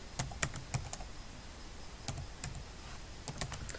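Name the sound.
typing on a computer keyboard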